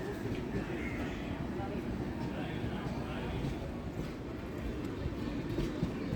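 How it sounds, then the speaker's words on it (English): The Rani Chinnamma Express, running from Bangalore to Sangli, pulls into platform number 2 at an Indian railway station, a steady low rumble of rolling wagons that holds at moderate distance throughout without breaks. "The Rani Chinnamma Express from Bangalore to Sangli pulls into platform number 2."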